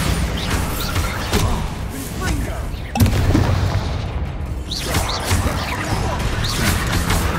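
Spell explosions, Bombarda and Confringo, burst in a Hogwarts Legacy battle, with repeated loud booms and crashes over a dense clatter of combat effects, while voices shout during the fight.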